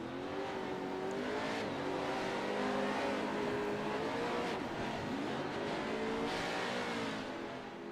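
Race trucks lapping Summit Point Raceway's 1.1-mile Jefferson Circuit in West Virginia during a heat race, engines droning and revving steadily as the pack circles, a continuous mid-distance roar with shifting pitch and no voices.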